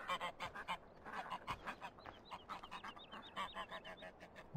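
Farmyard geese in Farming Simulator 15 honk in a rapid, continuous series of short calls, close by and clear, with higher squeaky notes mixed in and no voices over them.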